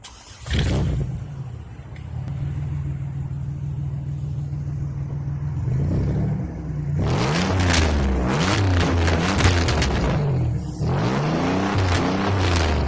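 A 200-horsepower 3.8-liter V6 car engine idles with a steady low rumble, then revs up hard several times, the pitch rising and falling, loud and close.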